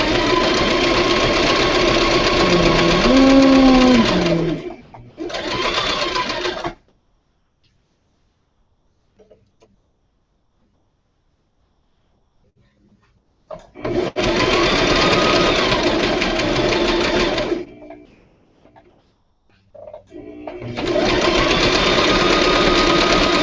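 A sewing machine runs in loud, steady bursts of mechanical whirring, stopping and starting several times with silent gaps between runs.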